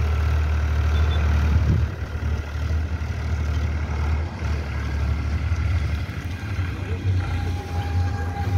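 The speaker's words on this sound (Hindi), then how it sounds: "भाइयों तीन सिलेंडर 34 हॉर्स पावर का ट्रैक्टर है ये, पावर ट्रैक 434।" A three-cylinder 34 hp Powertrac 434 tractor runs in a wet field, its diesel engine giving a steady, close, low rumbling drone that holds evenly throughout without pauses.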